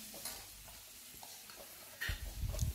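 Pirandai chutney with tomatoes and tamarind being stirred in a pan, with soft scraping stirs and a quiet sizzle that swells louder near the end.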